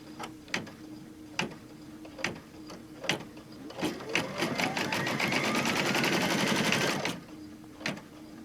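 An embroidery machine sews a straight line across a mug wrap held in the hoop, starting with spaced single clicks, then building into a steady, fast rattling run of stitches before stopping, with a few isolated clicks after.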